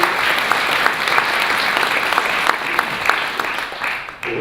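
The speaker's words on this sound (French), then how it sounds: "Oui, ça mérite des applaudissements, je pense." Sustained audience applause at an urbanism conference, a dense continuous patter of many hands clapping that holds steady throughout and thins slightly near the end.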